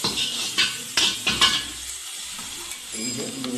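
Vinegar, soy sauce and tomato sauce are stirred into a hot pan. A spoon scrapes and clinks against the metal in a few quick strokes over a crackling sizzle, close up, and then the pan settles into quieter frying.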